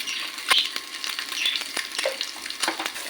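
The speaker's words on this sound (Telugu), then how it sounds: "ఎగ్స్ని ఫ్రై చేసుకోవాలి ఓకే అండి ఫ్రై అవుతుంది కదా" Eggs frying in a pan with turmeric and salt for an egg and taro curry, a steady close sizzle with crackling pops and a few scrape-like clicks, no voices.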